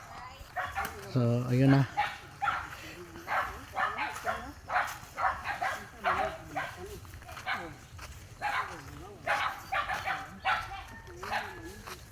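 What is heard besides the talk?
dogs barking at arriving visitors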